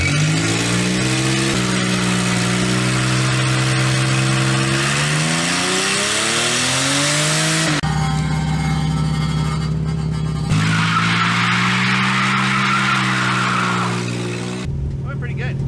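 A 2JZ-powered Lexus SC300 coupe drifts with its engine roaring loudly through rising and falling revs, tires squealing between gear changes, all close and continuous.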